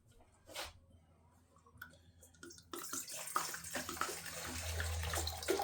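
Water pours and splashes into a container for a turkey brine, starting with a few small drips and then building into a louder, steady stream that keeps running to the end.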